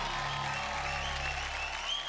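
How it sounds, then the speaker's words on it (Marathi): Steady applause for a performance, a continuous wash of clapping throughout the short span with a tonal hum underneath and no distinct voices. "जोरदार टाळ्या"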